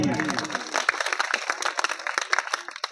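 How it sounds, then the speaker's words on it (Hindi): Loud audience applause and clapping for a singer at a Hindi social-change song performance, dense and sustained throughout, with some voices mixed into the crowd noise. "सर के लिए जोरदार ताली होनी चाहिए।"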